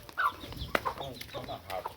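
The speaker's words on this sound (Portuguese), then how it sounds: "Ô, galinha." A chicken clucking outdoors, several short close clucks and squawks in an uneven rhythm with faint background sounds.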